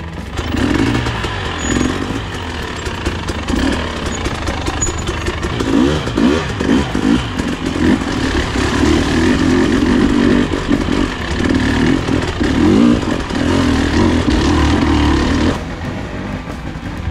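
A new motorcycle engine, ridden off-road on a trail ride, revs loudly and continuously up close, its rough roar swelling and churning for about fifteen seconds before easing off at the end.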